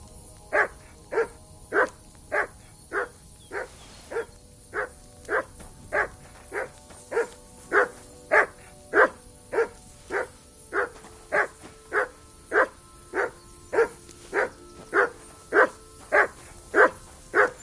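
A dog in the video game Kingdom Come Deliverance 2 barks in a steady, evenly spaced series of about thirty sharp, moderately loud barks over a quiet background, with no talking.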